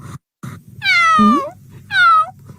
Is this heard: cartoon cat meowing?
yes